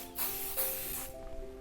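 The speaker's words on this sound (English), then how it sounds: "I spray and brush, spray and brush" Light hairspray hisses from a can onto hair in two or three close, loud bursts, with no talk.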